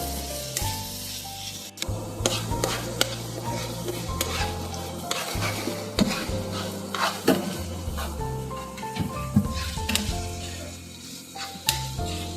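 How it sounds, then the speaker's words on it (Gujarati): Finely chopped onions for a pizza sauce sauté in a pan with a loud, continuous sizzle, punctuated by frequent close scraping and clacking of a spoon stirring against the metal; no voices. "હવે ત્યારબાદ હું એની અંદર ઝીણી સમારેલી ડુંગળી છે એડ કરું છું"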